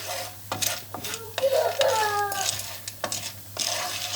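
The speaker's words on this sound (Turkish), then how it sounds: "Şimdi karıştıralım. Patlayıncaya kadar karıştıralım tamam mı?" A spoon scraping and clattering as popcorn kernels are stirred in a pot on the stove, with soft sizzling underneath; a few distinct metallic knocks, and an adult and someone speaking quietly.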